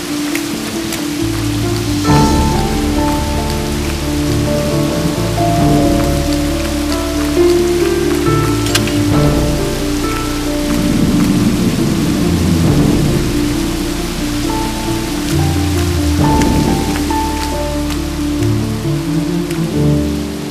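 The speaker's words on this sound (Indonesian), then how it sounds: "Hujan tambah deras, lari yuk." Heavy rain pours steadily for the whole stretch while deep rolls of thunder rumble through it, loud and close, with a tonal background running underneath and no voices.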